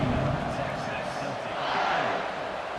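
A stadium crowd roars in a college football video game, Texas against Arkansas, a broad sustained wash of cheering that swells slightly midway, with commentary-style speech mixed in.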